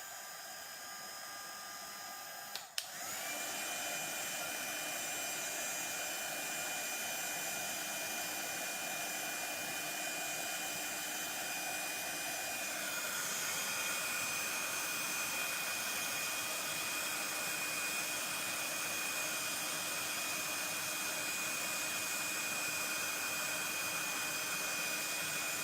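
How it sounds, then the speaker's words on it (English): A craft heat tool switches on with a click and blows a loud, steady whirring stream of hot air to set embossing powder on a Christmas card, running unbroken and shifting slightly in tone partway through. "And then I'll bring in my heat tool, give me just a sec, and I will heat set this."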